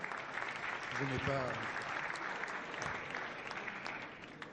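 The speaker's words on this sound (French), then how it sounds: "on peut applaudir, oui, je laisse l'espace." Gala audience applause rises as a broad, steady patter of many hands at a French chamber of commerce evening, with a brief voice speaking over it early on before the clapping tapers slightly.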